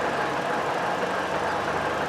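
A car engine idles steadily after a new battery and a new alternator were fitted, with a constant close mechanical hum and faint ticking and no talking.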